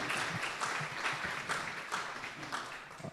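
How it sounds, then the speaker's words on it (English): A conference audience at an international forage conservation symposium applauds steadily, a dense wash of many hands clapping together for the full stretch without a break. "Another round of applause,"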